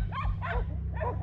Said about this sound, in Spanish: como aquellos perritos que andan por allá nadando en el agua